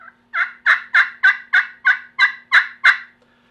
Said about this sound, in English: you just rub across that slate, run it back and forth